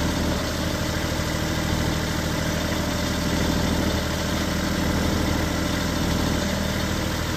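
A Kubota L35 tractor engine runs steadily in third gear, close and loud. The diesel chugs and vibrates at an even pace throughout, with no talking.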